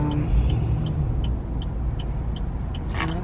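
Interior of a moving car: a steady low road rumble and engine hum, with a faint, regular ticking like a turn signal clicking evenly throughout.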